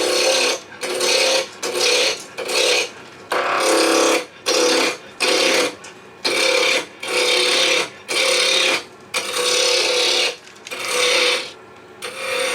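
A wood lathe turns at just under 2,000 rpm while a gouge roughs a wooden blank toward a cylinder for a bug pull toy, giving loud bursts of scraping, rasping cuts that start and stop in a steady rhythm of short passes.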